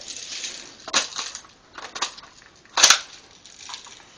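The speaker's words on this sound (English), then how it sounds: "you just pull this back and you shake it, and the pellets fall in" A BB gun magazine is shaken to drop pellets into it, giving a few bursts of rattling and clicking clatter, with the loudest burst near the end.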